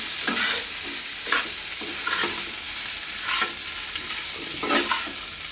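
Cauliflower and vegetables stirred and frying with garlic, onion and mustard in a pan, steady sizzle with repeated scraping strokes of a spatula at a regular rhythm, close and clear, no voices.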